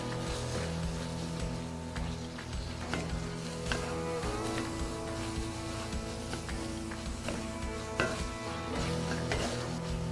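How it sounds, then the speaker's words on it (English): A spoon stirs sloppy joe sauce with mustard in a pot, making soft, irregular scraping taps over steady background music. "And we're going to give that a stir."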